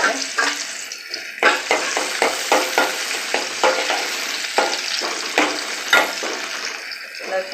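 Crushed garlic sizzles in hot oil in a pan while a spoon stirs and scrapes steadily, with bursts of frying crackle recurring throughout and close to the listener.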